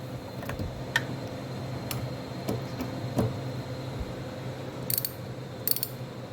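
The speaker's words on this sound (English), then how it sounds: "star bit shape socket, and we're just going to loosen it up." A ratchet wrench with an E10 star bit socket loosens a bolt on a BMW Z4 E85/86, giving sparse, sharp clicks spread out over several seconds against a low background hum, close and fairly quiet.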